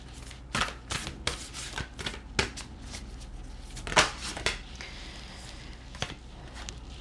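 Tarot cards shuffled and drawn during a reading, a run of dry papery riffles and slides, close and fairly quiet, with short bursts and brushing between them.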